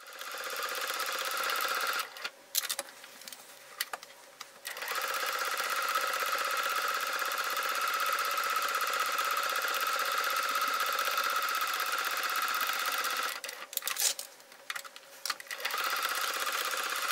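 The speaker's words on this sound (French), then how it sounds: "Et maintenant, on va coudre ici comme ça sur la ligne là" Sewing machine stitches a fabric bag seam in a steady, fast mechanical whir, pausing briefly twice with soft handling noises between runs.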